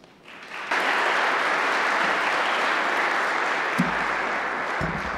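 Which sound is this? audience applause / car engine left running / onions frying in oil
audience applause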